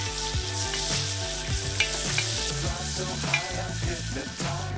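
Chopped onion frying in rendered smoked bacon fat in a cauldron over a campfire, a dense close sizzle with crackles, over a steady low hum and tonal background sound throughout.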